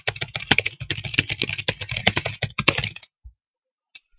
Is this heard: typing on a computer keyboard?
yes